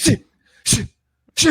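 A voice imitates a sneeze three times in quick succession, each a short, sharp burst of breathy noise separated by brief silences.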